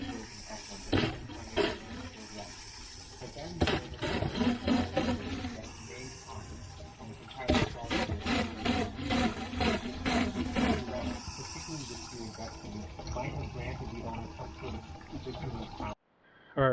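Coolant gushing and splashing through a cooling hose on a 4th-gen Ram 2500 with the 6.7 Cummins diesel, a continuous close watery rush with irregular surges, cutting off abruptly near the end.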